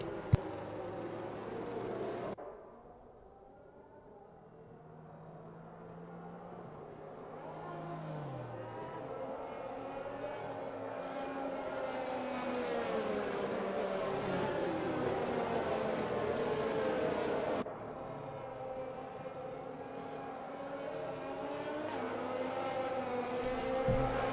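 Race cars in a Bahrain Grand Prix racing video game pick up speed again after a safety car period, a steady engine drone rising and swelling over the clip with a brief dip early on, no voices.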